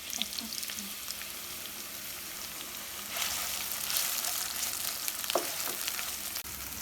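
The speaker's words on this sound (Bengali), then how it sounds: "পেঁয়াজ দিয়ে দিচ্ছি, একটা বড় সাইজের পেঁয়াজ।" Chopped large onion sizzling in hot oil with cloves, cardamom and bay leaf for chicken jhal fry, a steady close frying hiss that swells louder partway through, with no talking.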